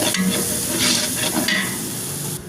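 Onion frying in a pan with browned garlic and ginger for Visayan-style lugaw, a steady broadband sizzle with a few stirring clatters, close and fairly loud, no talking.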